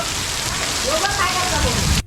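A loud downpour pours steadily onto a tiled roof, with faint voices and a few tonal sounds drifting over it before cutting off at the end.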